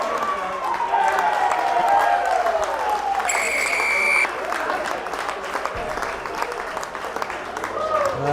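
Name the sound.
crowd applauding a rugby try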